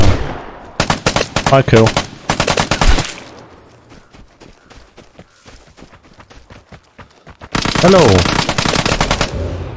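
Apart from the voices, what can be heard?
gunfire in the video game Vigor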